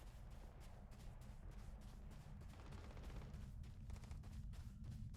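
Sustained gunfire from the video game Starfield, a rolling stream of distant shots and bursts over a heavy low rumble, steady and unbroken for several seconds with no voices.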